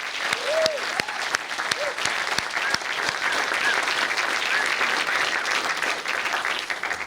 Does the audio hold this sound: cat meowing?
no